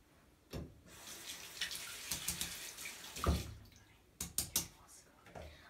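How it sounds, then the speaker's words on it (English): Running tap water rinsing an armpit after a first shave, heard as a close, uneven splash and gush with bursts of louder spattering near the end. "let's rinse."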